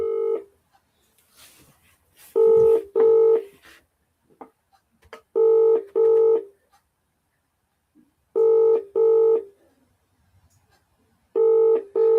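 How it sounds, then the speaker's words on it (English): Telephone keypad dialing tones beep in short paired bursts, repeated at intervals against near silence, with faint background sounds between the tones. "I'm trying to phone people"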